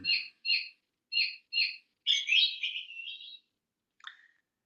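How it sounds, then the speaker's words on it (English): A mindful bird clock gives four short, evenly spaced chirps, then a longer warbling trill, and after a pause one last brief chirp. The sound is clear and close with no talk. "that's my mindful clock, my mindful bird clock"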